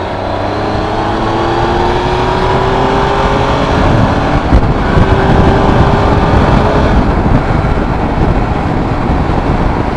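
A 2015 Triumph Tiger Explorer 1200 motorcycle pulls hard in fourth gear from around 30, its engine note rising steadily under loud, continuous wind roar as the bike accelerates; no talking.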